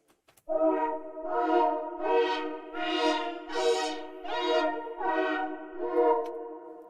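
A synth in FL Studio plays two repeating minor chords, a gloomy pad-like tone pulsing in even swells, bright harmonic chords rising and falling alone without any voice.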